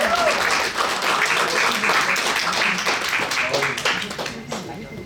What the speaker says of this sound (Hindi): और बहुत सारी तालियों में प्रीतपाल साहब आपके हैं।